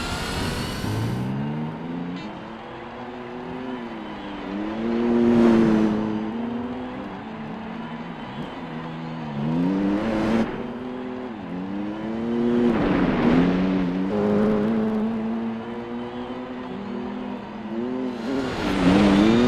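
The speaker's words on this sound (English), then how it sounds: "I accelerate a little too hard." A car accelerates hard in Gran Turismo 4, its engine note climbing through repeated revving surges and gear changes. The sound stays steady and close, with no talk.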